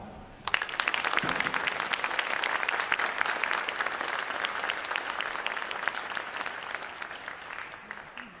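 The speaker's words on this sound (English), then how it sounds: "Thank you, and a round of applause for them." A crowd applauds at a U.S. Navy boot camp graduation ceremony, with many hands clapping sharply and steadily for several seconds after a brief start. The applause sounds wide and fairly distant, and no voices rise above it.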